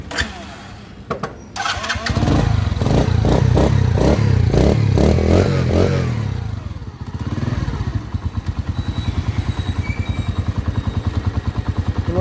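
A Dayang 80 motorcycle engine cranks and catches after a short pause, then runs steadily and loud with a throbbing, regular idle that settles into quick, even pulses.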